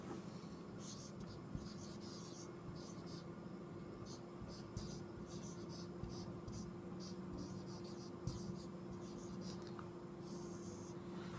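A pen scratches across paper in short rhythmic strokes and bursts, set against a steady low electrical hum in a quiet room.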